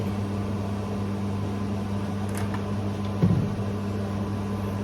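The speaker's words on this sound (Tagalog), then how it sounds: "I-on natin ang exhaust fan." Steady hum of a kitchen exhaust fan running while cooking with olive oil, a constant low drone with a faint clink partway through.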